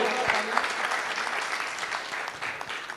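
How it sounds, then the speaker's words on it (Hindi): Seated audience at a music talk breaks into sustained applause for Deepak, dense even clapping at a moderate distance, with no voices over it. "एक बार दीपक भैया के बहुत जोरदार तालियां"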